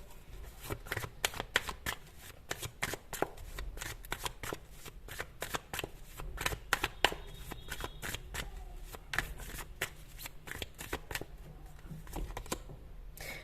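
Tarot cards are shuffled by hand in a long run of quick papery riffles and taps, close and fairly quiet, with no talking over them.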